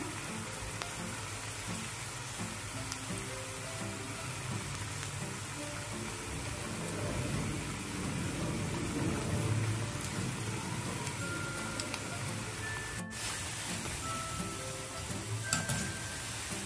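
Cauliflower pieces for restaurant-style spicy Gobi 65 frying in hot oil in a pan, giving a steady close sizzle and crackle that swells slightly midway and runs on without talk.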